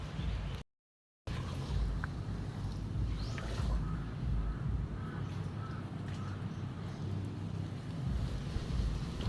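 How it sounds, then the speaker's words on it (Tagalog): Steady wind in stormy weather buffeting the microphone, a low rumbling gusty roar that carries on throughout with no talking. "Oh, mahangin po ngayon."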